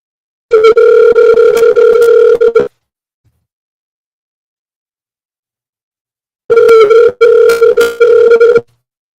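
A telephone rings out on a call, two long tonal ring bursts separated by several seconds of silence, loud and clear with no talking.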